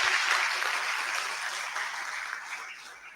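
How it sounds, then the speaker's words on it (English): Crowd applause for the second runner-up at a university startup conclave prize ceremony, a dense, fairly close burst of clapping that fades slightly over a few seconds. "Give a huge round of applause for the second runner up."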